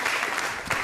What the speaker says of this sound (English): Applause for the gentleman.